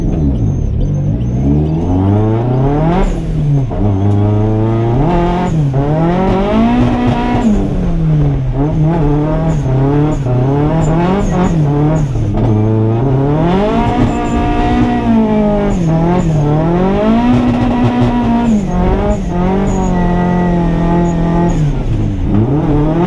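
A drift car at a tandem drift competition revs hard and close, its engine pitch climbing and falling again and again across a long continuous run, with no talk.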